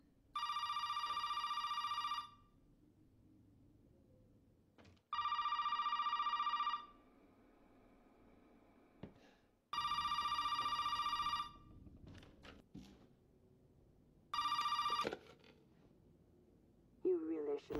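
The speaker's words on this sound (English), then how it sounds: "That damn phone." An old-style telephone bell rings in four loud, even bursts separated by quiet gaps in a tense Resident Evil 7 game scene, with faint creaks and a brief sound at the end.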